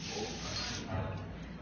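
A kitchen sink sprayer in a three-compartment dishwashing sink shoots water in a steady broadband hiss, fairly loud and continuous for under two seconds, with no talk.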